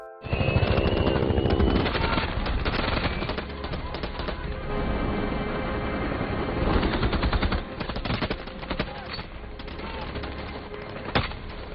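Machine gun fire from a Vietnam War battle film, cavalry troops shooting into bushes: dense, sustained bursts of rapid automatic shots, loud and continuous for most of the stretch with scattered single cracks toward the end.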